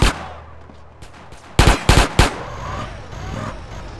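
A quick volley of four loud, close gunshots cracks out in GTA San Andreas over a low engine-like rumble of game noise.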